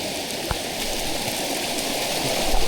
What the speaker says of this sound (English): So right now the creek system is raging.